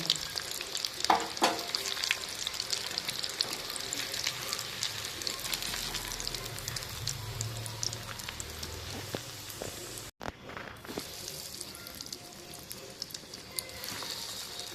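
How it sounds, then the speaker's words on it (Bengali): Fish balls made from rohu or catla fish fry in hot oil with a steady, dense sizzle and occasional stirring clatter, fairly close and continuous throughout with no talk. "এইভাবে আমি সমস্ত ফিশ বলগুলো ভেজে নেব।"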